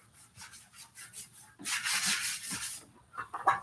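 Coarse sandpaper rubbed over a handmade shield in quick back-and-forth strokes, a light rhythmic scratching at first, then a louder, harsher burst of sanding before it eases into a few short rubs.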